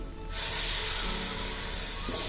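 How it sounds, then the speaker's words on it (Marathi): Onion and tomato paste hits hot masala in a pan for chicken biryani, setting off a sudden loud, steady sizzling hiss after a brief quiet start that continues close up to the end. "आता त्याच्यामध्ये कांदा आणि टॅमॅटोची पेस्ट टाकायची आहे"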